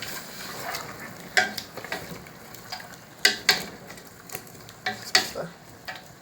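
Chicken cooks in a pot without water, a steady soft sizzle broken by repeated scraping stirs of a utensil against the pot, close and alone.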